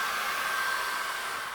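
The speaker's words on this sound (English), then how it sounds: "So we need to dry that very quickly now with a hairdryer." A hairdryer blows steadily at close range, drying wet acrylic paint on a flower painting, with a constant whooshing airflow and a thin whine running through the whole short stretch, and no voices.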